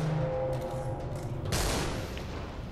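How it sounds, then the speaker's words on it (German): A nuclear explosion in the video game Destiny: Rise of Iron erupts as a sudden loud broadband blast partway through, following a brief tonal hum and rumbling game audio. "Atomexplosion."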